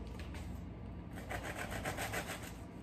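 Knife sawing through a crisp toasted tomato, mozzarella and pesto panini, a steady rasping crunch with rhythmic scraping strokes, close and fairly faint.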